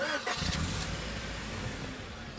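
A car engine cranks and catches in a zombie apocalypse film, then settles into a steady rumbling idle that fills the whole stretch at moderate loudness.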